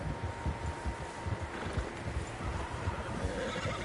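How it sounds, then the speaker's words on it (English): In the Red Dead Redemption 2 video game, horses whinny and their hooves clip-clop in an uneven, moderately quiet rhythm over a soft outdoor wind bed, with no talk. "Horses, quite a few of them."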